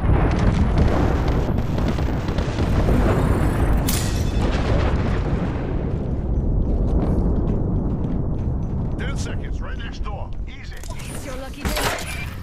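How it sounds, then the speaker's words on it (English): Airstrike explosions in the Apex Legends video game roll on as a dense, loud rumble of booms and debris lasting throughout, with sharper crackling bursts near the end and a voice speaking over the barrage. "Heads up, we got an airstrike on us"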